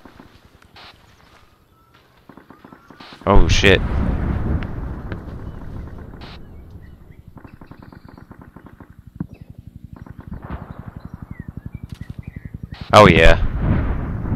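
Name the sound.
artillery explosions in combat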